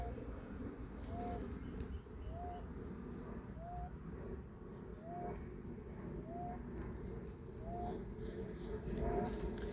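An owl hooting outdoors at night, a soft two-note call repeating about every second and a quarter, faint and distant over a steady low background rumble.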